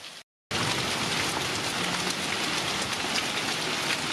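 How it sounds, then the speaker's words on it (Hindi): Heavy rain mixed with hail pours down during changeable mountain weather near Kedarnath, a loud, dense, steady hiss of drops striking surfaces, broken only by a brief silent gap near the start. "कभी बारिश हो जा रही है, ओले भी पड़ रहे हैं।"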